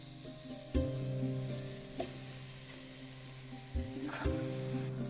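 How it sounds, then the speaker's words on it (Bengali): Onion fries with ginger and garlic in a pan, a steady sizzle broken by a few sharp scrapes and clanks as a utensil stirs the mix, close and clear with no talking. "এই আদা রসুনের সাথে কুক হতে হতেই দেখবেন পেঁয়াজটা আস্তে আস্তে গলতে শুরু করবে।"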